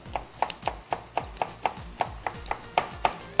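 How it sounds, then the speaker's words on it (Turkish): A knife chops a pepper rapidly on a cutting board, crisp evenly spaced knocks about three per second, close and clear with no talking. "bir adet biberi de şöyle küçük küçük doğrayıp kavurursanız"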